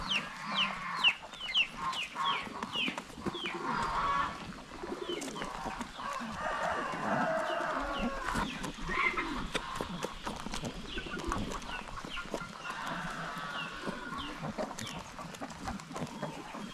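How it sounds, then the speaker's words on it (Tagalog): Chickens clucking and calling among rabbits in a backyard animal pen, with busy overlapping bird vocalizations throughout, fairly close and steady with no talk. "May manok pa na nakikain sa ating mga rabbit."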